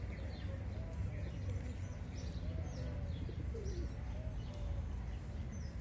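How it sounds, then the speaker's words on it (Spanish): A male pigeon coos in a park in Murcia, Spain. Soft, repeated low coos sit faintly under steady background hum, with light chirps scattered above. "Es igual que los canarios cantan, las palomas arrullan."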